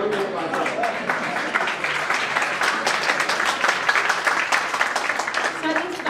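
Students at an awareness seminar on aplastic anemia, sickle cell and thalassemia clap together in sustained, dense applause that holds steady and fairly loud throughout.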